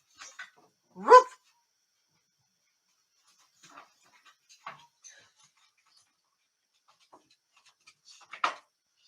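A single clear bark from a close dog opens, followed by near-quiet with small scattered noises and a brief sharper yelp or bark near the end.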